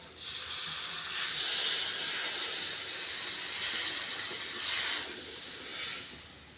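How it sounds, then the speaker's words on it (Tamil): Tamarind water hits a hot pan with a loud hissing sizzle that surges in waves and then settles. "இப்போ இந்த புளி தண்ணியாக சேர்த்துக்கிறேன்"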